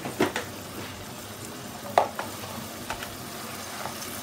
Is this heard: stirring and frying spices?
yes